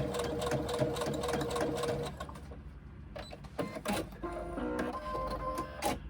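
A domestic sewing machine top-stitches along a fabric edge, running in a fast continuous whir for two seconds, then pausing with clicks and handling before short further stitching bursts.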